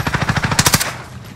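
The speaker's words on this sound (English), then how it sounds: "Receiving hostile fire." Hostile automatic gunfire in a video game rattles off in a fast burst of about a dozen close, sharp shots, then cuts off into quiet background; no voices.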